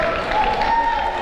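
Basketball crowd cheering and applauding in a gym during a men's college game, a steady broad wash of noise with a sustained tone running through it for just over a second.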